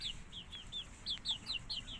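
Chicks in a pen of Thai red and New Zealand layer chickens peep in a rapid series of sharp, close chirps over a low continuous background hum.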